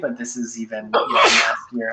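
A person sneezes once, sharply and close by, cutting into ongoing talk, with speech continuing before and after the burst.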